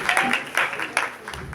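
A school farewell audience for Class XII claps in scattered bursts, uneven and moderately close, mixed with crowd chatter.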